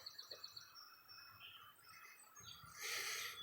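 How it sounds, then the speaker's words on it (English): Birds sing outdoors amid greenery on Canaan Avenue in Kempful, Canada, with repeated thin chirps and whistled trills at moderate distance over quiet ambient noise, growing brighter near the end. "The birds are singing."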